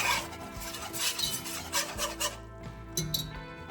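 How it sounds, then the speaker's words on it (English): Flour roux for baked mac and cheese being stirred in a pot, a close continuous scraping and rubbing of a spoon against the pan over a soft sizzle, with occasional light knocks and no voices. "we're gonna mix that together and cook this down for about 1 minute"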